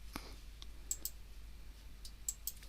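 A few soft computer mouse clicks while drafting in AutoCAD, quiet and isolated, coming in sparse pairs over a faint background hiss.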